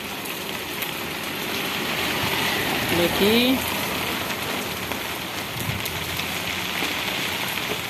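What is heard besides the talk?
light rain falling in Quixeramobim, Ceará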